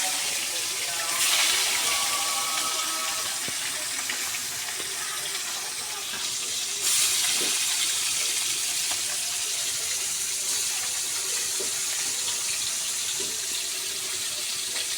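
Rohu fish frying in hot oil in a wok, a steady broadband sizzle lasting throughout, close and fairly loud, with a brief surge near the start and another around seven seconds.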